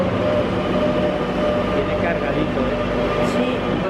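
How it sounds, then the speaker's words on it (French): A Madrid metro subway train heard from inside a carriage: a loud, continuous rolling rumble with steady track noise, and voices faintly beneath it. "première fois que je reprends le métro."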